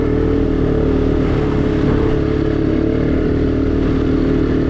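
A Honda Recon 250 ATV engine runs steadily in third gear while riding on melting snow, a loud continuous motor drone close by with no pauses.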